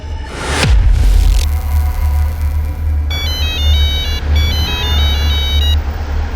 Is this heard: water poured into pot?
no